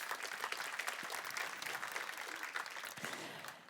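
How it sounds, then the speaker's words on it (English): Conference audience clapping in a large room, a sustained even patter of many hands at middle distance that fades slightly toward the end. "So a big round of applause to everybody who is done."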